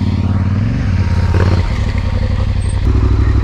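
A Yamaha Ténéré 700 GYTR motorcycle being ridden on the Transanatolia rally, its engine a loud, steady close-up drone that changes pitch about halfway through, with a clattering, scraping edge and no voices.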